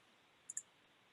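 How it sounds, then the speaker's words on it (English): Two quick, faint computer mouse clicks in quick succession against a near-silent background. "I will click the Edit button in the top left corner of the screen"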